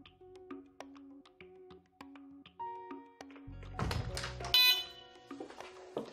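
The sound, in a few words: Delta Dore Tyxal+ wireless home alarm siren warning beeps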